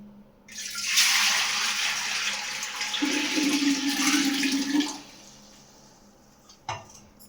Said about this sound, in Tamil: 1 குண்டான் தண்ணி ஊற்றுறேன்.